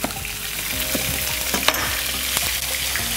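Vegetable pieces for an Irish beef stew hiss and sizzle in a hot pan, with steady frying crackle throughout and a few louder spits and stirring clatters, close and without voices.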